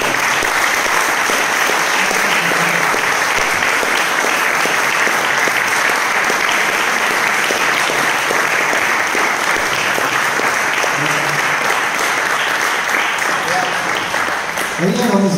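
Audience at a master class in Benevento applauds with sustained, dense clapping that holds steady for the whole stretch and swells slightly at the end.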